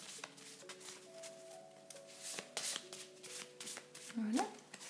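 Stiff tarot cards being shuffled by hand, a close papery riffling and sliding that comes in bursts, with a voice speaking over parts of it.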